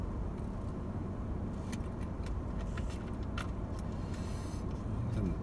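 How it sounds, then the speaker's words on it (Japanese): Steady road traffic rolls past outdoors, a continuous broadband wash of car noise with faint passing swells and no speech on top. "でも交通量もなんか 相変わらず多いですし"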